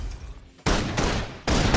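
Suppression gunfire in the video game Love and Deepspace comes as two sustained, loud bursts of rapid shots, separated by a brief quiet gap, with no talk over them.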